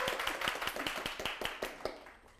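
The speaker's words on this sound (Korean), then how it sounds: "박진호님께 박수 주시기 바랍니다" An audience at a lecture show claps for a volunteer who has just come up to the front, a quick rapid patter of handclaps that fades out near the end.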